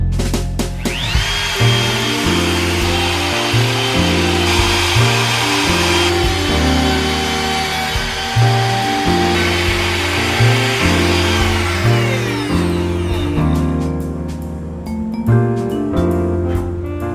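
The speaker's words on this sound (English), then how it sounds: "it has a 1/2-inch straight bit that I'm going to use for these dowel holes" A router fitted with a half-inch straight bit cuts dowel holes in wood, giving a loud, close, sustained high-pitched whine that wavers as the bit bites, then spins down near the end.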